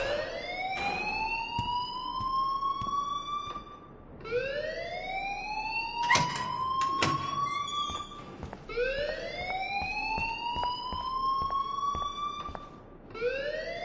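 A school alarm in Life Is Strange wails in repeated rising siren sweeps, each climbing for about four seconds before restarting, loud and steady with a few sharp clicks and no voices.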